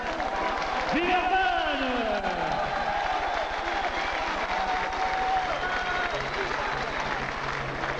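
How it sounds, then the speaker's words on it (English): Boxing arena crowd in Villeurbanne applauding and cheering before a WBC middleweight championship bout, a dense, steady roar of clapping throughout, with an announcer's amplified voice calling out over it and whistles rising above the noise. "Encore, mesdames, messieurs, vos applaudissements, Villeurbanne"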